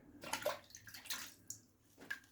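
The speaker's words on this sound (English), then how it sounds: "Let's load up some water." Water runs from a tap in short bursts while being collected for a straight-razor shave, with intermittent splashy gushes separated by pauses, quiet and close.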